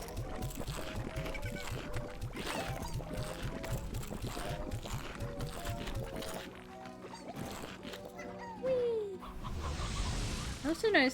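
Chickens cluck in the video game Slime Rancher, a run of short repeated clucks mixed with game sound effects, under a speaking voice for most of the stretch.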